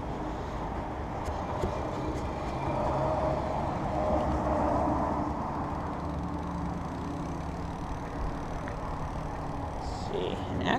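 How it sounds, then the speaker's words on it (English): Electric hub motor of a 2015 Raleigh Detour-iE e-bike running on throttle, a steady low whirring hum with road and wind noise that holds constant throughout. "Now I'm going to try the throttle, and you can just listen for the motor."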